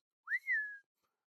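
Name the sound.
voice imitating a slide whistle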